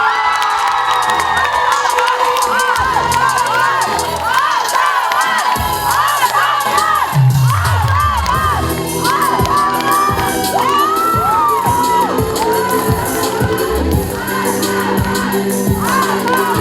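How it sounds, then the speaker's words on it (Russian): A university Mister contest audience roars for the winner, loud cheering, whoops and shouting from a big crowd, with music playing throughout and a sustained, energetic din. "Громкие аплодисменты нашему мистеру Оригинальность"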